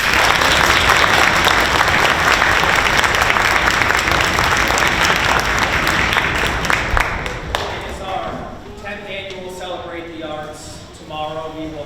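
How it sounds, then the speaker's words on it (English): At a school orchestra concert, the audience applauds Mrs. Stevenson, with dense clapping for about seven seconds that then thins out as a voice begins speaking over the last few claps. "So if we could give her a round of applause."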